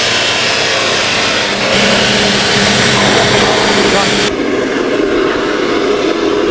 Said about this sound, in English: Turn it on and drill a hole.